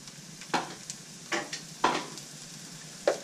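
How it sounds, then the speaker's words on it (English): Onions frying in a pan for lo mein, cooked until brown, with soft sizzling under a few distinct stirring scrapes about a second apart, fairly faint and close, with no talk. "And I always do the onions first."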